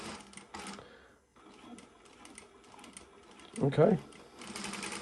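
A Prosew PS-1985 industrial sewing machine stitches in reverse then forward, its short mechanical whirring bursts separated by pauses, with a louder rattling run near the end, while someone speaks briefly.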